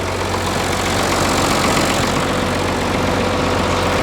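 The engine of a 3650 tractor runs at a loud, close, steady idle with a rough, knocking rumble throughout and no audible talk.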